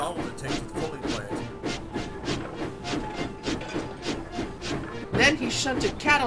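A railway engine shunts goods trucks in a rhythmic, repeating clatter of clanks and knocks, with a narrating voice speaking over it.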